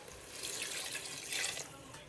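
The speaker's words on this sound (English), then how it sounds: "That was a little hot water I put in there." Hot water poured into a pot of homemade dog food with simmering turkey and vegetables, a steady splashing pour running close and fairly loud for about two seconds, alone without talk.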